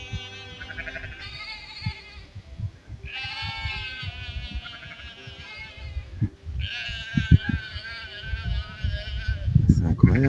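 A mother goat bleats to call her kid, three long wavering bleats close by, with rustling and handling noises underneath and a burst of closer scuffling at the end.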